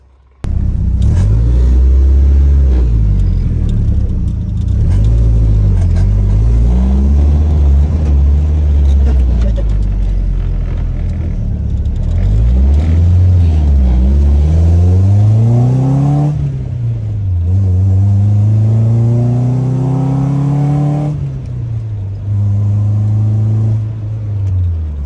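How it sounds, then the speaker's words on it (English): Revived Nissan 240SX engine running and driving, loud and close, with a rumbling idle breaking into several rising revs and gear-change sweeps, then settling to a steady drone. "240 is running and driving"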